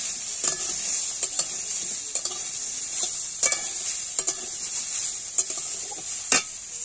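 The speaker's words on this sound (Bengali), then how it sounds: "তেল দিয়ে বেগুন, উচ্ছে, আলু দিয়ে ভালো করে কষিয়ে নেব।" Eggplant, bitter gourd and potato fry in oil while a spatula stirs them, giving a steady close sizzle broken by repeated sharp scraping clicks against the pan.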